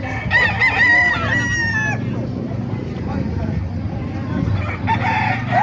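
A Black McRae rooster crows loudly and nearby at a bustling poultry market in Bocaue, Bulacan. Afterwards clucking and a murmur of crowd chatter continue in the background.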